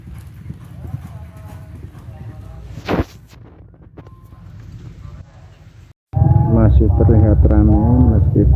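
Horses' hooves clip-clop at a horse race in Tegalwaton, Central Java. The steady, fairly close hoofbeats run under someone talking, with a sharp knock partway through and louder crowd and voices near the end.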